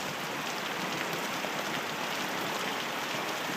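Heavy rain pours down on a rainy day in Prince Albert, a dense, even hiss of drops hitting surfaces that stays loud and unbroken from start to finish.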